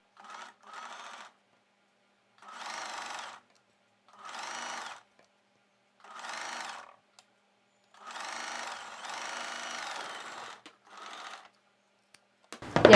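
A sewing machine runs in about six short bursts of stitching with brief pauses between, sewing invisible-thread piping onto the square neck of a plain blouse piece, heard close and alone.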